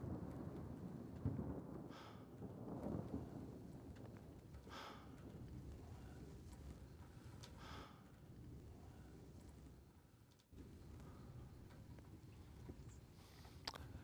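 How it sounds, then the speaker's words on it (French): A thunderstorm with steady rain falling and low rolls of thunder rumbling through, the downpour constant and fairly dense, with a few brighter rumbles standing out near the start. "Vous entendez l'orage?"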